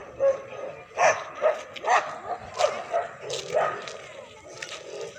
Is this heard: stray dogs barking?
yes